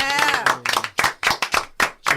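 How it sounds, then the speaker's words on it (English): Several people clap in quick uneven bursts close by, a short round of hand claps with a voice briefly mixed in at the start. "Let's clap it up real quick."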